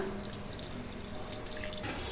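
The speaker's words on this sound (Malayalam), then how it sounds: "ആവശ്യത്തിന് വെള്ളം ഒഴിച്ച് കൊടുക്കാം." Water being poured into a mixer grinder bowl while preparing rice batter for idli, a continuous close splashing trickle with no talk.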